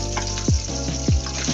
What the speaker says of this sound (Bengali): আলুটা আমি এখন ফ্রাই করে নেব।